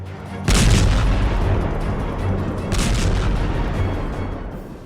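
JDAM bombs destroying buildings in Lebanon, two heavy booming blasts a couple of seconds apart, each followed by a long rumbling roll of debris and reverberation.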